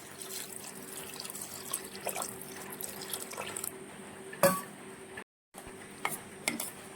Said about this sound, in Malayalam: ഒരല്പം വെള്ളം ഒഴിച്ച് ഇതൊന്ന് നമുക്ക് കുതിർത്ത് വെക്കാം.